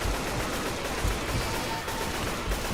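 Continuous AK-47 fire in a video game, a loud, unbroken rattle of rapid shots with no talk over it.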